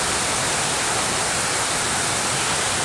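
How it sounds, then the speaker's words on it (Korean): Steady broadband rush of a small waterfall about one to two metres high on a mountain trail, a continuous close roar of falling water with no pauses and no voices. "폭포."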